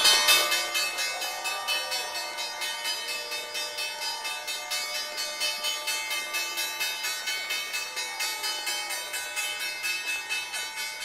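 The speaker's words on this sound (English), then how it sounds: "They're also here to ring the closing bell." A stock exchange closing bell rings continuously for about eleven seconds, its bright metallic strikes repeating in a steady rapid pulse, loud and close, with no talking over it.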